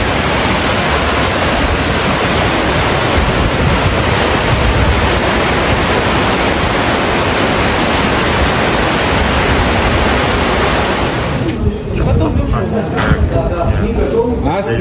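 A loud, constant roar of falling water from the Milky Waterfall near Lake Ritsa, Abkhazia, fills the scene, dense and unbroken, easing slightly near the end.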